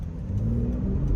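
A 2025 Honda Pilot Touring with a 3.5-litre V6 and front-wheel drive accelerates up to speed in manual shift mode. A low, steady engine rumble and whir is heard from inside the cabin, briefly and with no talk.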